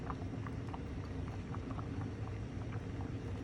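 Lentils simmer in a pot for a lentil stew, making a faint, continuous low bubbling with soft popping and no voices.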